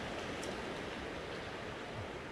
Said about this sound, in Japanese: 滝が空から降ってきたぞ。